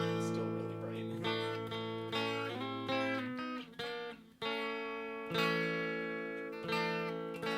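A clean electric guitar played through a Fender Montreux pedal with treble low and bass high, bright sustained chords and notes ringing one after another, with short gaps between strummed phrases and no talking.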